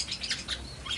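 A black-naped oriole (kepodang emas), a caged songbird, sings a close, clear run of bright whistled chirps in quick repeated phrases over faint background noise.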